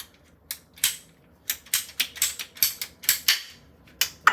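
Ratcheting cutter made for PEX pipe cutting through a length of pipe, a close series of sharp clicks and snaps coming in quick uneven bursts.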